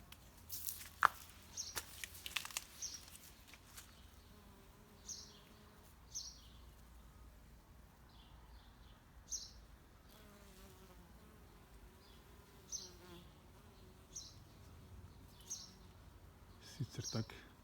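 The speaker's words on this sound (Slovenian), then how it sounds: "Tudi čebele grejo gor, sem opazil." Bees hum faintly around large garden flowers in Majšperk, Slovenia, in July, a soft intermittent buzzing drifting in and out alongside scattered bird chirps and a quiet voice talking.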